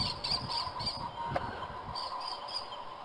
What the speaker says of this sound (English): And the birds are here.